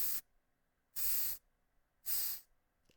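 Compressed air from an air nozzle hisses through a rubber plug in three short, even bursts of about half a second each, with silence between them, close and clear.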